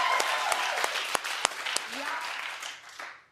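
Studio audience applause at a daytime talk show, moderately loud and continuous, with a few sharper individual claps standing out before it fades toward the end.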